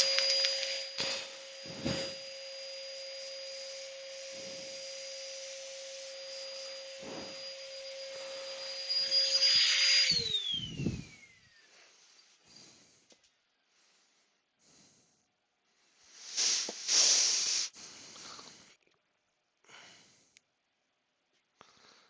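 Spraying ebonized lacquer: several short hissing bursts from a spray gun, separated by quiet gaps. The early bursts sit over a steady tone that drops away partway through, and a longer hiss comes near the end.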